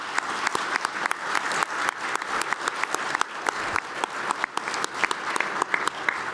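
A conference audience claps for panelists at the end of a nuclear reactor licensing session. The applause is steady and moderately loud, with distinct individual claps standing out from the dense crowd.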